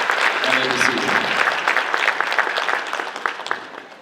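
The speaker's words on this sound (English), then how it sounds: "So clap it up again for these young women." An audience claps steadily at an awards luncheon honoring high school female athletes, a dense, continuous applause that fills the room, with voices mixed in and the clapping thinning slightly toward the end.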